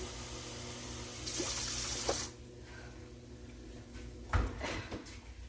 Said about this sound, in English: I am going to add water to the bottom of my water pan that sits at the bottom of the oven